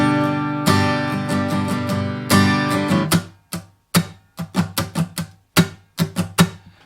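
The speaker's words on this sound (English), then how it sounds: "the strum is a very, very laid back strum that sounds like this" Laid-back acoustic guitar strumming in open position without a capo, playing the pattern for a song, with loose sustained strums giving way to separate, evenly spaced strokes, close and alone.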